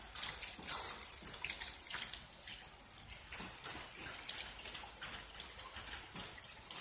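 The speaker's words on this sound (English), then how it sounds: "you gonna drink the mud water the sister just dug up?" A dog drinking muddy water in the rain: steady splashing and trickling with small wet laps and drips, continuous and fairly close, no voices.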